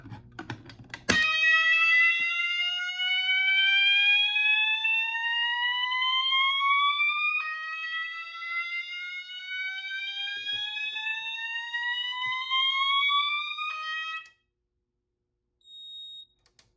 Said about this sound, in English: a system sensor MAS 24M horn strobe set to slow whoop